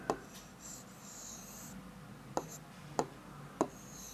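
Pen strokes on paper while writing Urdu script by hand, heard as a few short, faint scratchy taps spaced apart against a quiet room.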